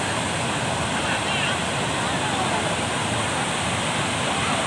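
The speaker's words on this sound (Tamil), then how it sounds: "தண்ணி வந்து ரொம்ப ஸ்பீடாக வருது" Fast-flowing water pours over Kuruvithurai waterfall near Madurai in a loud, continuous, close roar that stays steady from start to finish.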